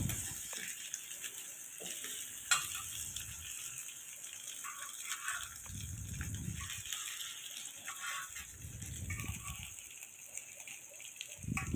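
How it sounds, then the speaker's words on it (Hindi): Bread cutlets shallow-frying in plenty of ghee over a medium-high flame give off a steady, fairly quiet sizzle, broken now and then by soft low thumps. "हम लोगों ने इनको दोनों साइडों से 2 से 3 मिनट के लिए मीडियम हाई फ्लेम पर फुल घी में फ्राई कर लेना है।"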